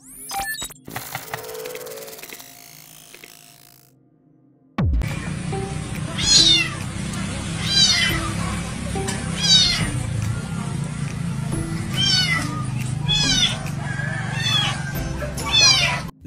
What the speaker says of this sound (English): A small monkey has heard the screams of this kitten that is caught in a well in Singapore.